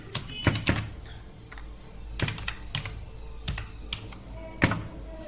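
Computer keyboard keys are typed in short clustered bursts while text is entered into a PowerPoint slide, the clicks close and crisp against a quiet room with pauses between groups.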